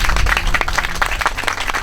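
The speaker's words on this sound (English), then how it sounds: "how about a round of applause for our two aunties over here?" A brief burst of audience applause at a community gathering, dense clapping from a crowd, close and fairly loud with no talking.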